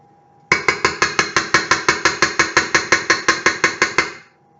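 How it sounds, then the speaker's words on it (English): Electric mixer beaters being knocked against a bowl to clear off lemon meltaway cookie batter: about twenty rapid, evenly spaced metallic clinks, loud and close, with no talk. "scrape off the beaters"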